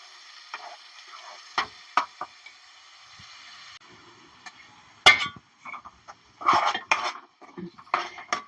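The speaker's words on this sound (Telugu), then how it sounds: "సిమ్ములో పెట్టుకొని జాగ్రత్తగా కలుపుకున్నాలి మనం." A spoon scrapes and knocks against a pan while palak paneer curry is stirred over low heat at home, with sparse clinks and taps early, then bursts of louder clattering stirring near the end.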